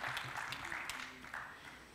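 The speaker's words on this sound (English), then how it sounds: "I would like a round of applause, a vibrant round of applause for everyone." A room of session attendees gives a soft round of clapping, faint and fairly even, with scattered voices murmuring underneath.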